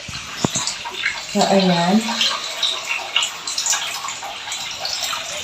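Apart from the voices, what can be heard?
running tap water flowing for laundry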